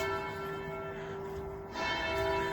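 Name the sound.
small bell ringing near the Panthéon in Paris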